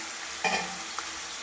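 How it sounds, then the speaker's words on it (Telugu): Chicken pieces dropped into a pan of well-fried onions, a brief sizzle with a short stirring scrape over a steady low frying hiss. "ఇప్పుడు చికెన్ వేయాలండి ఇందులో"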